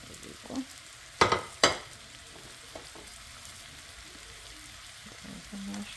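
Mushrooms sizzle steadily in a hot frying pan, with a few sharp clatters from stirring or utensils over the continuous, moderately quiet hiss.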